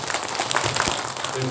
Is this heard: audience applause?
yes